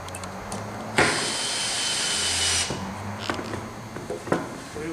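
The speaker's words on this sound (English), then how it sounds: "Once we run these other screws in, we will have a complete assembly." Power drill whirring for nearly two seconds as it drives a screw into a fish-shaped wooden footstool, followed by scattered knocks and handling clatter of the assembly; close and moderately loud, no talking.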